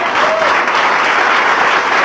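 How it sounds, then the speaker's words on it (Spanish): A church congregation applauds together in loud, sustained clapping that holds steady throughout, with no speech over it. "Le damos un aplauso al Señor."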